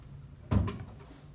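A single short wooden knock and slide, like a drawer being moved, in an otherwise quiet room.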